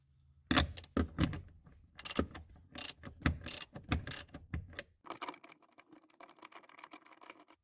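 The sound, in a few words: ratchet removing 18mm seat anchor bolt in Saab 9-3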